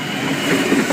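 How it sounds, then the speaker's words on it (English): A Sydney Trains V11 train departs Medlow Bath station, a steady low rail rumble with faint wheel clatter running continuously at moderate loudness through the moment. "V11 now departing."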